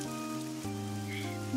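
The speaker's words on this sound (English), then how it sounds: "It's raining." Rain from the video game AI: The Somnium Files falls steadily under the game's background music and tones, a soft, even patter that runs throughout.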